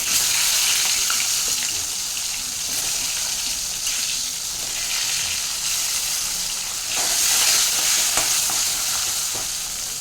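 Cut ivy gourd pieces frying in a hot pan of oil, a loud, steady sizzle and crackle that holds throughout with slight swells, no voices over it.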